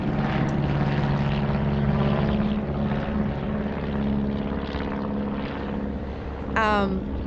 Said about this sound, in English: We've got some airplanes flying by here on the beach, so we'll just give it a minute.